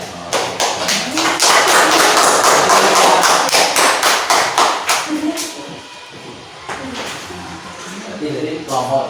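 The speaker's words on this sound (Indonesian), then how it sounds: "Tepuk tangan untuk kelompok" Classroom of students clapping for a student group, sharp irregular hand claps and taps close by, loud at first, fading, then a brief second burst, with some talk mixed in.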